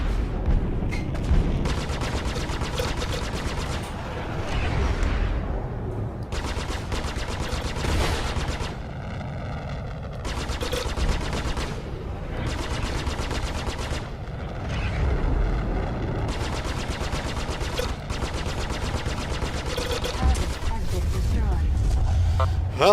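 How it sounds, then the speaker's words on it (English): Heavy, sustained gunfire in the space game Star Citizen, dense rattling bursts with booming impacts rolling on almost without pause, loud and close, with a voice talking over parts of it. "There's so much fire going on right now."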